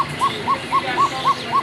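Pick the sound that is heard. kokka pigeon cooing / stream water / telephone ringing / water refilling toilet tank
kokka pigeon cooing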